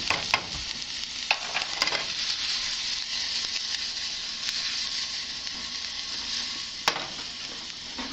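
Onions frying in hot oil in a pan for hot sauce, a steady dense sizzle with occasional crackles and stirring clicks, close and continuous, no talk.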